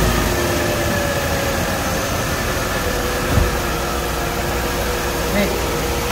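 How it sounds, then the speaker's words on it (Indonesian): A 1990s Mercedes-Benz car engine with a fully reworked engine bay cranks and starts, settling into a steady, smooth hum close by, with a brief thump midway. "Saya starter sekarang ya mesinnya ya."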